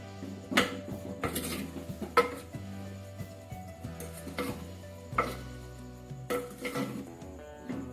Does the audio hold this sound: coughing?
no